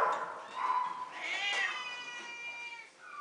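Cats meowing in a cat infirmary for sick cats with upper respiratory infections: a drawn-out, wavering meow that rises into a loud, strained caterwaul and then fades, heard close with no talking.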